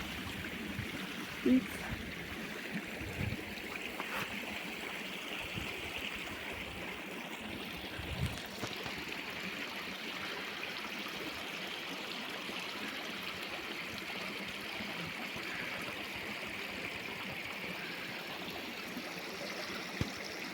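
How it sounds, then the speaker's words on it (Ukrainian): Meltwater from melting snow runs in a stream in the Lviv region, giving a faint, steady rushing trickle with a few brief knocks and bumps. "Це стало більше води, сніг тане і трохи піднялася вода."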